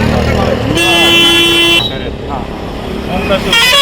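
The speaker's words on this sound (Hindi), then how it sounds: "यहाँ पे ट्रैक्टरों का लंबा काफिला है" A long convoy of tractors gathered with villagers in the morning rumbles loudly and steadily, with a sustained horn blast partway through and voices heard over the engine noise.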